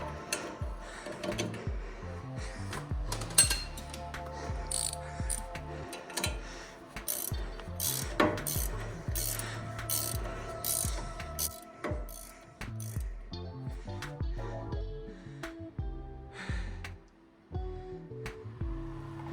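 Ratchet clicking as a nut is tightened on the upper control arm of a Toyota Land Cruiser Prado KZJ90/KZJ95 during a lift kit install, a steady run of close, rapid mechanical ticks with no talk.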